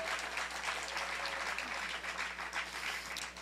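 Sustained applause from an audience for a performer at a literary evening held in a prison, a dense, steady clatter of clapping lasting throughout without a break.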